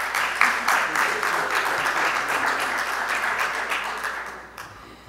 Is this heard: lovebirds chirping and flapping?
no